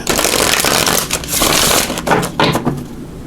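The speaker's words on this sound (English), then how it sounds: "So let me just shuffle here" Tarot cards being shuffled by hand in a quiet room, a dense papery riffling and rustling that runs in a few bursts over several seconds, close and fairly loud.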